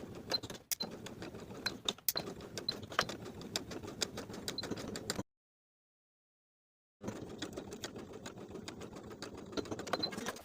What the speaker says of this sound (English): Sew the top from the raw edge to the point along the stitching line